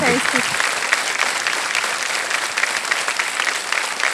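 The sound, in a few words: studio audience applause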